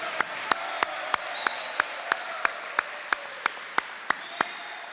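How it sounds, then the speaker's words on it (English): A crowd applauds at a high school sports awards ceremony in Cotulla, a soft, even wash of clapping punctuated by sharp, regularly spaced claps standing out close by. "if we could get a round of applause for these two individuals"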